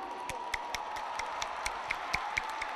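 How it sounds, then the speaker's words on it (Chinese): An audience at a university fashion party applauds to welcome the Party King and Queen candidates, steady clapping from a crowd with sharp individual claps standing out, heard at a moderate distance. "让我们用热烈掌声欢迎他们准备出场"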